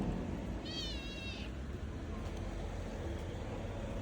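A rescued kitten gives one short, high meow outdoors in a snowstorm, faint against steady rumbling traffic and wind noise.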